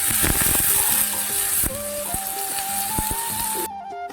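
Cut potatoes drop into sizzling spice masala in a pan, a loud steady fry with scattered clinks and knocks of stirring, the hiss suddenly thinning near the end.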